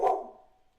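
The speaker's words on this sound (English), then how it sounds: "Sorry, my dog just barked on me." A single sharp dog bark, loud and close, heard indoors near an open window, quickly fading into a short tail with no talking.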